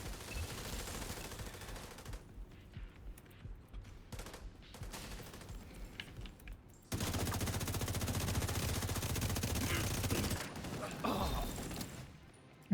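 Automatic gunfire in a video game, with sustained bursts of rapid shots, a brief lull, then a long loud fusillade followed by a sharp final crack.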